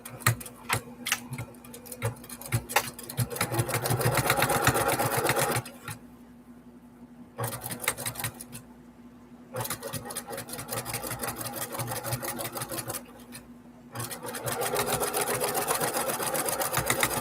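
A sewing machine stitches quilt blocks in fast rattling bursts, stopping for a second or two between runs, close and fairly quiet with a steady background hum.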